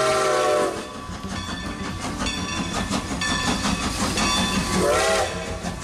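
A steam train whistle sounds loud and close, two harmonic chime blasts framing a stretch of hissing steam and rolling rail noise from the Strasbourg number 90 locomotive.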